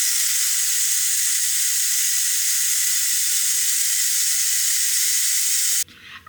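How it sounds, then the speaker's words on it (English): Steam hisses from a pressure cooker's pressure release while potatoes cook for chips, a loud, steady, close rush that cuts off abruptly near the end. "To release the pressure, note that we're going to have lots of steam"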